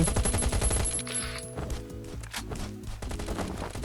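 Gunfire in the survival game Last Island of Survival comes as rapid automatic bursts, loud at first and then in shorter clipped volleys with brief gaps, over a tonal game background.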